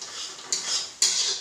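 A metal spoon stirs and scrapes crab curry frying in a pan, making two sharp clinks of utensil on pan over a soft, continuous sizzle, close and alone.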